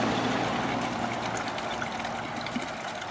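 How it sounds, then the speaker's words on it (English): Vinegar pours into water in a container holding rusty steel traps, making a steady, fairly loud trickling and gurgling stream over the whole stretch, with no talking. "Pour that vinegar in that water"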